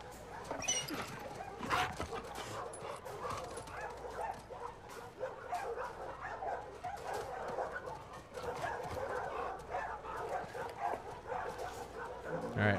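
Dog barking, yipping and whimpering in The Last of Us Part 2, repeated busy calls throughout over a dense game soundscape, with a voice talking at times.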